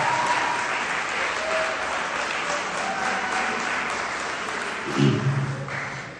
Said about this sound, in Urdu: بجا دے تالی